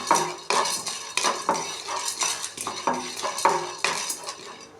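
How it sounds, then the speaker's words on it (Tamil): Roasted gram (pottukadalai) tossed lightly in a kadai, with a steady series of metallic scrapes and clinks as a ladle stirs against the pan, close and fairly loud. "கொஞ்சமாக பொட்டுக்கடலை லைட்டாக வறுத்து எடுத்துக்கலாம்"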